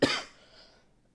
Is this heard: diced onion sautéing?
no